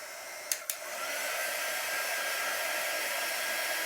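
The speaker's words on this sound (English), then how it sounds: "and then I'm going to take our little drying tool" A small heat set drying tool blows steadily over a Chalk Couture transfer, two quick clicks as it switches on, then a constant airy whir, close and even, with no talk.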